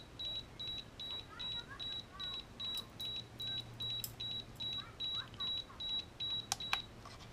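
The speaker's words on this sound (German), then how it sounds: "Jetzt gibt es wieder einen Alarm." Inkbird BBQ Go IBT-6X Bluetooth grill thermometer sounds its over-temperature alarm, a sharp, high electronic beep repeating in steady short bursts about twice a second, with a few soft clicks and handling sounds near the end.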